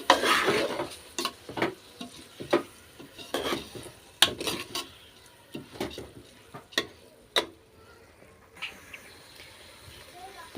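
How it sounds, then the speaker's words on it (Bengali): A spoon scrapes and knocks against a cooking pan of rice and milk in irregular strokes, with faint sizzling underneath, close by. "একটু নাড়াচাড়া করে দেবো"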